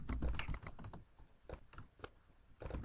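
Quiet, close typing on a computer keyboard, a quick irregular patter of key clicks with brief pauses, composing a tweet.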